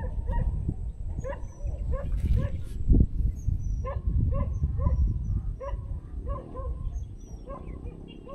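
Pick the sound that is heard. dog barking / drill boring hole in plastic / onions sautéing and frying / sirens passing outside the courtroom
dog barking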